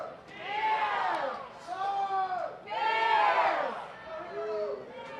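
A crowd of fans at a North Carolina versus Cal women's college soccer match shouts a rhythmic cheer for the Tar Heels, loud chanted bursts rising and falling in repeated phrases.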